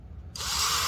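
A power drill bores a hole, kicking in abruptly after a short quiet moment and whirring steadily at close range for the rest of the brief moment.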